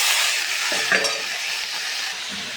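Green chilies and vegetables (spinach, radish, potato) sizzling in a frying pan, a steady close hiss with a brief stirring clatter near the middle.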